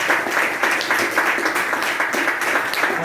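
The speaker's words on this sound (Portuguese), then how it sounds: "Uma salva de palmas para Jesus" A church congregation claps together in sustained applause, a dense, even patter of many hands continuing for a few seconds.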